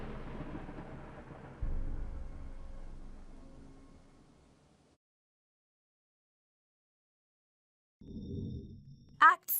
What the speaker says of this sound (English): a terrible storm was just beginning